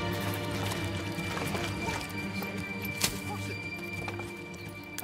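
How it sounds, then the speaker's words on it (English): A horse in the video game Manor Lords, with hoof clopping and faint neighing amid busy game ambience and a steady hum, plus one sharper knock midway; a person talks over it. "there is a horse"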